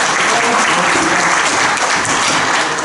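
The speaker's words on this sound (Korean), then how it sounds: "다시 한번 큰 박수 부탁드리도록 하겠습니다." A lecture audience in Korea gives a professor a loud, dense burst of applause, many hands clapping evenly and close for a few seconds without talk.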